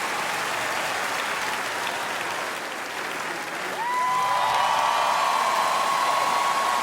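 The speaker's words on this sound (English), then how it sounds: "instead, it's nothing but the audience cheering" Audience cheering and applauding at the MTV VMAs awards show, a dense roar of claps and shouts that swells louder partway through, with a few whistles rising above it.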